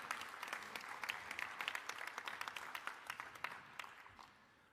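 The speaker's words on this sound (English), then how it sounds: "let's give our AV team a round of applause" An audience at a military symposium applauds in a dense patter of claps that holds steady, then fades out. The sound is quiet and distant, with no voices over it.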